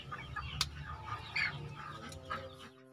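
Chickens cluck in a short series of sharp, uneven calls over a busy farmyard background, with no talking.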